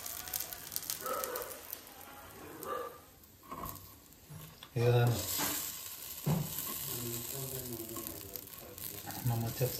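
Paddu batter frying in oil in a pan, a steady close sizzle with occasional stirring clatter, partly under a person talking.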